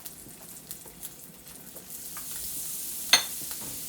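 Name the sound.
butter sizzling in a hot pan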